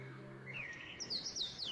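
Small birds chirp outdoors in quick, high, thin tweets that rise and fall, fairly close and clear, with steady background noise underneath and no talking.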